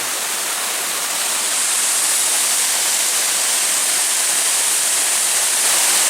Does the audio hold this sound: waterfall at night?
yes